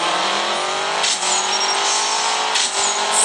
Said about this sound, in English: Faye and a Ferrari 458 Speciale, apparently.